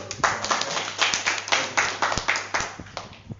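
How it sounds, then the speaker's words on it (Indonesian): An audience at an Indonesian health-product presentation claps together in a rhythmic, roughly in-time beat, about a dozen sharp clustered claps over a faint steady hum, close and moderately loud. "nah tepuk tangan dulu."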